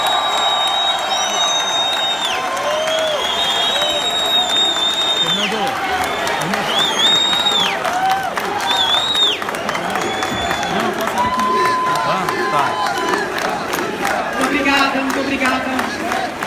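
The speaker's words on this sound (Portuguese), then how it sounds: "Eu peço, por favor, se possível, que não aplaudam, não gritem" Audience at a party convention applauding and cheering, a steady dense wash of clapping with whoops and shouts carried across the whole stretch, mixed with crowd voices and some amplified speech.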